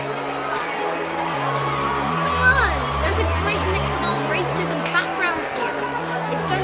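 Crowd chatter at a busy gathering in an audio drama, a steady babble of many voices under low music, with occasional louder bursts and nearer voices rising from the hubbub.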